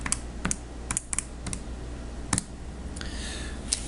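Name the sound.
typing numbers in to calculate sphere volume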